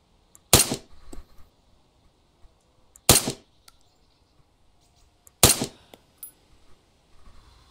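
Rifle shots in Arma 3, three sharp loud cracks spaced about two and a half seconds apart, each followed by a short echoing tail, with quiet between.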